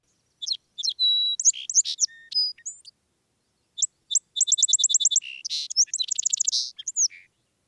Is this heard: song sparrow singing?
yes